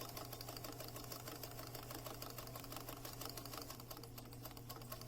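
A sewing machine back stitches to anchor a fabric seam on a cloth bag for a bassoon or oboe, giving a steady, fast mechanical whir with close stitching clatter, faint and unbroken, with no talking.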